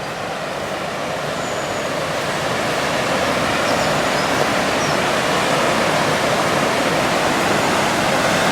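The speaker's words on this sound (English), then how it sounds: "there's a bit more of a waterfall here as well." A waterfall glimpsed from a passenger train in Wales, heard as a loud, continuous broadband rush of water mixed with the steady rumble of the moving train, with no voices.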